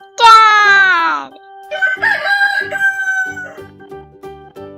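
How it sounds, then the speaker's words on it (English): A rooster lets out one loud, close cock-a-doodle-doo, then a series of shorter rhythmic clucking calls follows at a lower level. "Rooster."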